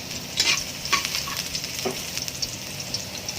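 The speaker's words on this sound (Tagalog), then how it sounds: "Pag mainit yung mantika, lagay natin ang bawang." Garlic dropped into hot cooking oil, frying for lumpia shanghai filling, gives a steady close sizzle with brief crackling bursts and a few stirring scrapes, no voices.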